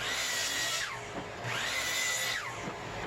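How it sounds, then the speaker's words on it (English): Power saw cutting pieces of 2x10 lumber in a woodshop, two high whining cuts that rise and fall back to back, loud and close with no talking. "where I'm chopping off a few pieces of 2x10 material"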